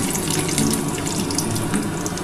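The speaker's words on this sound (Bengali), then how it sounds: "আমি হালকা করে একটু বাদামগুলো ভেজে নিই বন্ধুরা" Peanuts frying lightly in hot oil in a home kitchen give a steady, dense sizzle that crackles and hisses close by without pause, and no one speaks.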